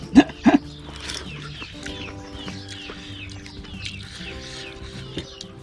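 Chickens cluck near an outdoor home kitchen in northern Thailand where pork leg curry is being cooked. Scattered soft clucks and calls go on throughout, with a couple of sharper sounds at the start and a steady faint hum underneath.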